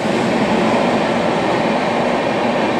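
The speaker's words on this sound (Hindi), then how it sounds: "आएगा ट्रेन, आएगा, बुलाओ ट्रेन को" A train pulls in at a railway platform, its loud, steady rumble of wheels and carriages filling the scene without pause and with no voices over it.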